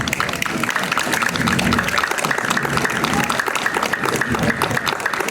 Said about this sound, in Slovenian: In aplavz.